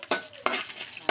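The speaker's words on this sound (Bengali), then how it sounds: "তেজপাতা, শুকনো লঙ্কা আর দিব জিরা। শুকনো লঙ্কাটা একটু লাল হয়ে নে" Bay leaf, dried red chilli and cumin fry in hot oil for a bottle gourd and shrimp dish, with three sharp stirring clatters of a spatula over a soft sizzle.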